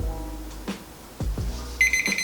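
A kitchen timer goes off at the end of resting stovetop Korean steamed rice, giving a few separate beeps followed by a sustained electronic ringing tone near the end, close and fairly clear with no talk over it.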